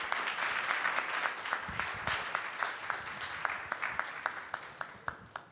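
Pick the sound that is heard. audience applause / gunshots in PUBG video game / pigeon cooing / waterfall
audience applause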